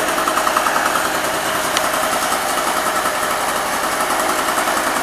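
A two-stroke generator runs steadily after a cold start, giving a continuous buzzing engine drone at an even, fairly close level with no voices.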